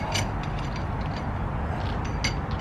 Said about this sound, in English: remove the front lugs, or the lug bolts off of the front wheel